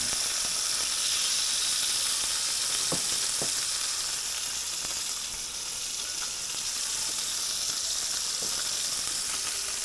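Bluefish and whiting blackening in a pan on a stove stuck on high heat, a steady dense sizzle and crackle running throughout with a few faint scraping ticks and no voices.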